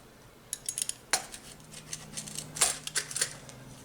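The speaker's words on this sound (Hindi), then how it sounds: "ये देखें काटने की आवाज़ से आपको पता चल रहा होगा कि बहुत ही क्रिस्पी पिज़्ज़ा है।" Knife cutting through a crispy pizza made without an oven or yeast, giving a run of sharp crunchy crackles and scrapes that come in irregular bursts, close-up, with no talking.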